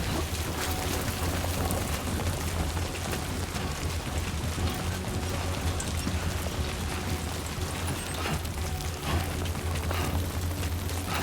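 Heavy timefall rain in the video game Death Stranding 2, a dense, loud, unbroken downpour roaring with pattering drops and low rumble, no talking.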